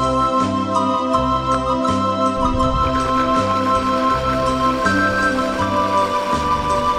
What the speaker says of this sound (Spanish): Y licúo estos ingredientes con un poquito de sal.